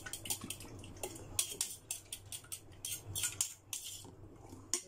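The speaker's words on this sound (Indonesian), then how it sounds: "aku kocok 2 butir telur" Two eggs whisked in a bowl: a quiet, rapid run of light clinking taps against the dish, with brief pauses between bursts.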